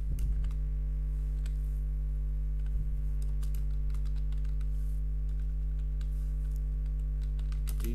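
Keys tapped on a computer keyboard in short irregular bursts of light clicks, close but soft, over a steady electrical mains hum, with no speech.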